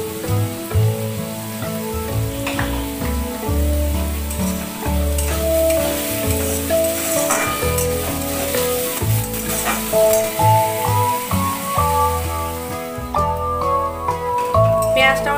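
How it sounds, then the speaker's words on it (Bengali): Sliced onion frying in hot oil in a pan, for a mutton keema stuffing for potatoes, gives a steady close sizzle with occasional stirring scrapes over background music. "পেঁয়াজটাকে দিয়ে আমি তেলের মধ্যে ভালো করে ভেজে নিই"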